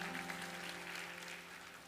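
Church congregation applause for Pastor Puji, a soft, steady wash of clapping heard at low level and fairly distant, fading slightly toward the end with no voices over it.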